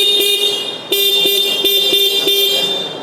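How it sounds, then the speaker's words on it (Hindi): A Bajaj CT 125X motorcycle horn sounds in a series of loud, steady electric beeps, one long blast followed by several short repeated toots, close to the microphone. "CT 125X का हॉर्न"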